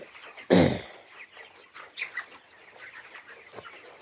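Chickens in a chicken shed give one sudden loud squawk near the start, followed by soft scattered clucks and murmurs at low level.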